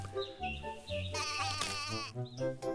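A goat bleats in long, wavering calls, loud and close, several cries following one another with short pauses between.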